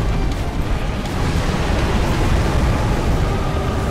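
A loud, sustained roaring blast from an explosion in Dark Souls 3 rumbles evenly for a few seconds as broadband noise, with no voices over it.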